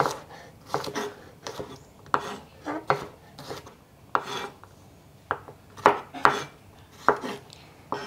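A knife chops soto seasoning spices on a cutting board in a home kitchen, giving a dozen or so sharp, irregular thuds and knocks at close range, with no talking.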